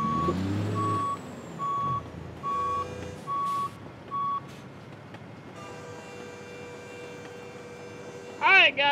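A modded K100 day cab truck in American Truck Simulator gives a run of evenly spaced reversing beeps over a low engine rumble, followed by a brighter steady tone and a brief rising whine near the end, with no voices.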